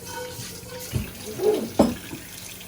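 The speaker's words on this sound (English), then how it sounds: "Then you rinse your pan out and make sure you get all the grease out of your pan." Running water from a kitchen sink tap while a frying pan is rinsed of grease, a steady close hiss with a few clunks of the pan against the basin.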